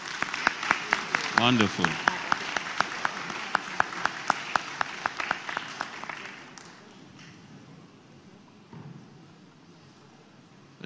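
A crowd at a high school graduation ceremony claps with sharp distinct hand claps over a murmur of voices, the applause fading after several seconds into quieter room noise.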